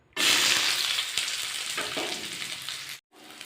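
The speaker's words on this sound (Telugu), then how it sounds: "ఆయిల్ తీసుకొని దీంట్లో సన్నగా తరిగిన ఉల్లిపాయలు వేయించుకోవాలి" Finely chopped onions hit hot oil with a sudden loud sizzle that stays dense and crackling, then briefly cuts out before resuming more quietly.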